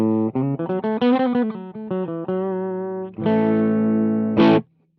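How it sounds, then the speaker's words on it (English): Electric guitar played through a slightly driven amp with the pedals switched off, on a slow dancing preset: a run of picked notes and chords, then a long ringing chord and a short bright strum before it cuts to silence. "So it's just a slightly driven kind of amp sound"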